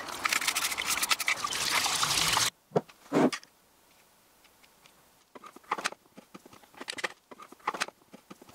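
A plastic Pest-Stop mouse trap is rinsed with water outdoors, giving a dense splashing wash at first, then a few sharp knocks and scattered patters and trickles of dripping water, with no talking.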